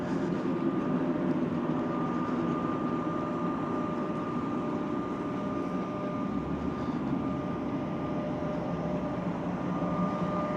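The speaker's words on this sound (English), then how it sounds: "the subway runs above ground along this stretch, so we'll probably see a train or two" A Toronto subway train runs above ground at night near Davisville along Yonge Street, producing a steady, continuous rumble with a faint sustained whine, heard from a moderate distance without any voices.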